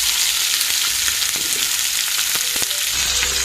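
Green chili and onion fry in hot oil tempering for a curd chutney, giving a steady, close, bright sizzle with occasional crackles and light stirring taps, no voices.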